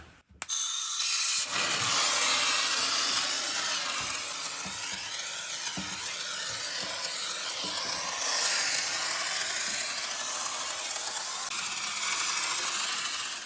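DAP spray foam insulation hissing steadily out of a hose nozzle on a low setting, a loud continuous spray that starts abruptly and runs without pause, with faint thumps underneath.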